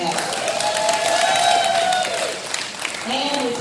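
Audience applause at a winter school showcase program, a steady wash of hand clapping that swells and then eases, with a voice and tonal sounds carrying over it.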